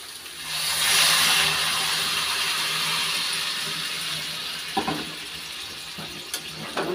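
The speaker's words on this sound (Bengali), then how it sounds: "এখন দিয়ে দিচ্ছি গরম জল।" Hot water is poured into curry cooking in a pan, a steady hissing splash that tapers off, followed by a few light clinks near the end.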